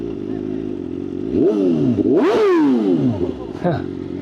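A BMW M1000RR with a loud aftermarket exhaust revs up close, the engine note climbing and falling in sharp sweeps over a rumbling idle, with crackly pops between blips.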